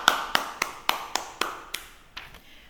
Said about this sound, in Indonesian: beri tepuk tangan bagi kelompok yang sudah tampil